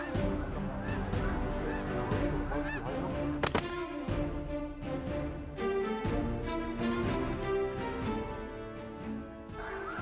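A flock of Canada geese honk loudly and continuously during a waterfowl hunt in North Dakota, with many overlapping calls close by and a single sharp crack partway through.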